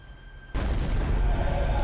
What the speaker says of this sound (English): the sound of an explosion sent him rushing to the window.